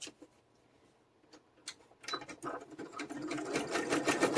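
Sewing machine zigzag stitching over a wallpaper bubble on a decorative outside cover: faint scattered clicks at first, then a rapid, steady mechanical chatter of stitching growing louder and continuous.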